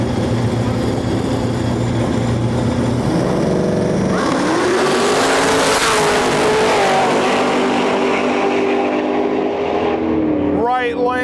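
Race cars, among them a Corvette C7, roaring on a track at night, engines droning loudly and rising in pitch as they accelerate, with a sharp revving whine near the end.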